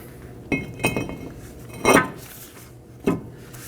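A new brake rotor is fitted onto the hub of a 2015-2023 Nissan Maxima, giving several distinct metallic clanks and clinks spaced over a few seconds against quiet background.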